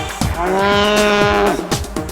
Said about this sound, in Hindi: गाय भैंस रंभाती है